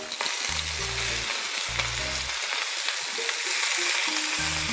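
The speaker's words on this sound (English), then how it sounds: "Now we'll put the spinach into it." Spinach sizzling in a very hot pan with chopped garlic, a continuous bright hiss and spatter, close and steady without any talk, while a low hum comes and goes beneath.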